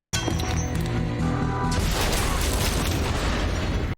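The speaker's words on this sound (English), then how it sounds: "He uses the good old Rambo grenade on a string trick." A grenade explosion in an action film, set off as a grenade-on-a-string trap: a sudden loud boom opens the clip, followed by a dense, sustained roar of blast and debris that stays loud throughout, with no speech.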